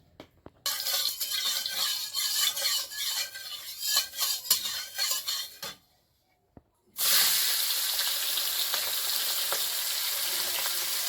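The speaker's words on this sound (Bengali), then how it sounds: "বড় চিংড়িগুলো আগে ভাজবো" Large prawns, salted and dusted with turmeric, fry hard in hot oil with a loud, dense sizzle that cuts out briefly, then surges back fiercely as more prawns go into the pan; no talking.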